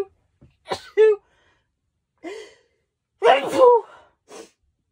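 Close sneezes in a quiet indoor setting: a short sharp pair early, then a louder, longer sneeze burst followed by a brief softer exhale.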